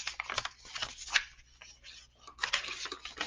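Quiet crinkling and rubbing as paper is folded and creased, in short soft bursts close by.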